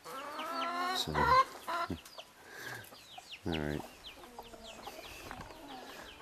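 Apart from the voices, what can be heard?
hens clucking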